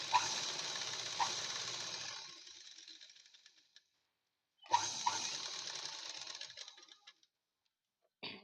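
A sewing machine stitches a fabric design in two runs of rapid whirring, each lasting a few seconds and separated by a short pause, fairly close with no voices.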